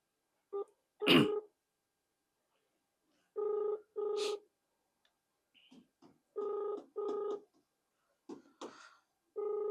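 Pairs of short, evenly spaced telephone ringback tones repeating with pauses between, plus a few faint clicks and a throaty noise near the start.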